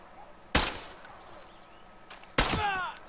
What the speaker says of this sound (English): First two were warning shots.